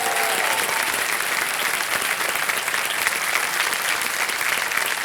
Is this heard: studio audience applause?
yes